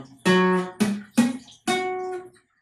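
Guitar chord strummed with imperfect fretting, four separate strikes that ring briefly and decay, the last one sustaining longer, close and clear with no talking.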